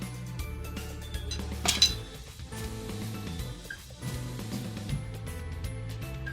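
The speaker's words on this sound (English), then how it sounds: "Grab my basic cutting tools." Basic metal cutting tools for pumpkin carving being handled, giving light clinks and clatters against a steady low background hum, with one sharper rattle in the middle.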